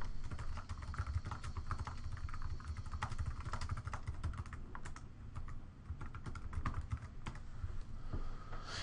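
Fingers type a full sentence on a computer keyboard, rapid irregular key clicks continuing steadily and close up, with no voices.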